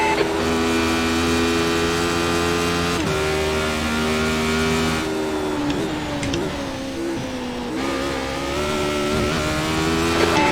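A Radical SR8 race car in the iRacing sim at Road Atlanta, its engine screaming at high revs with a dense harmonic whine, pitch dropping and climbing through gear changes over a continuous loud drone.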